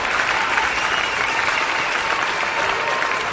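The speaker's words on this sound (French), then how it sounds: "Est-ce qu'on peut applaudir" An audience at a French-language talk or sermon applauds a stage arrival: dense, steady clapping from a sizable crowd, loud and close throughout with no pauses.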